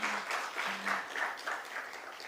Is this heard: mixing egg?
no